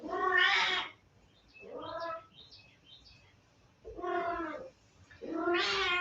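A pet cat named Tiger Lily meows several times indoors, loud, drawn-out cries coming in four separate bursts with short quiet gaps between them.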